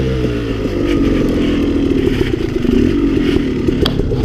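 A KTM 300 dirt bike laid over and ridden under a fallen log on a forest trail, engine droning loudly with clattering and scraping throughout, no talk.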